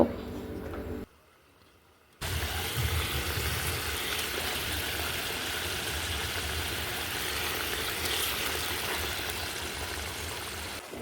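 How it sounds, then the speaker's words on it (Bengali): Egg masala curry at a rolling boil in a pan, a steady close bubbling and hiss that fills the clip after a brief drop to near silence early on. "এই তো তরকারিটা বলক চলে আসছে"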